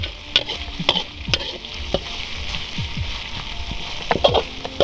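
Tilapia fries in hot oil, a dense continuous sizzle studded with sharp crackling pops and spatters at an irregular rhythm, close and fairly loud with no talking.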